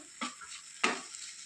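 Two quick scraping strokes of a spoon through amaranth greens frying with spice powder in a pan on a low flame, with a soft, faint sizzle in between.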